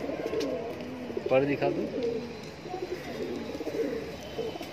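Pigeons cooing at a bird-seller's loft, soft low repeated coos close by with people talking over them.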